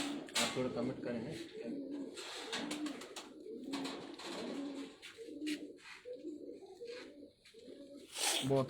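Soft, rhythmic cooing from loft pigeons runs steadily under ongoing conversation between men, with repeated low rolling calls.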